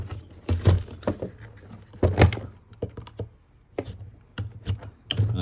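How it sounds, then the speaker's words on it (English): Plastic clips on a Greenworks Optimow robotic mower are pressed back into place with a screwdriver, giving a series of sharp close clicks and knocks in irregular bursts with quieter handling between them. "click your 2 clips back in with a screwdriver"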